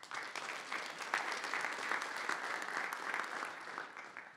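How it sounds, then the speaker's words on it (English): Steady audience applause welcoming a speaker at a university Bitcoin expo talk, a continuous wash of many hands clapping at moderate distance, with no one talking over it. "give a round of applause to her"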